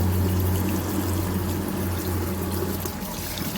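Steady running and splashing water as mangoes are rinsed in a bowl under a flowing tap, continuous and fairly loud throughout.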